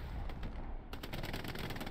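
Rapid machine gun fire crackles in a tight burst of close, sharp shots in the Hell Let Loose battlefield game, with continuous combat noise before and after.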